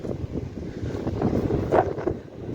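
A fast-spinning AC fan blows strong air in a steady broadband rush that buffets the microphone, with gusty rises and falls and no talking.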